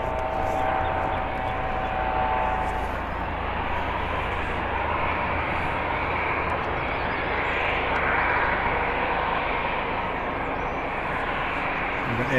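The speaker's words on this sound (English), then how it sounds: "we've got Air Baltic taking off again" An Air Baltic airliner takes off at Birmingham Airport, its jet engines making a steady, loud, broadband roar that holds throughout with no clear speech.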